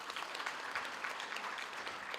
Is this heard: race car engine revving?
no